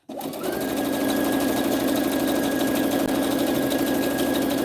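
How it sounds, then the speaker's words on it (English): A sewing machine starts up and runs continuously while stitching, giving a loud, steady mechanical whir with a constant hum that carries on without a break and with no talking. "is this machine too loud to talk and sew at the same time?"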